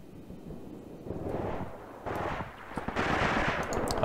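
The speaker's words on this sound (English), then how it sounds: "The machine gun should deal with them." Machine gun fire rattles in the war game Graviteam Tactics during an assault on Popov, rapid bursts building from a distant patter into louder, sustained chattering fire with no speech.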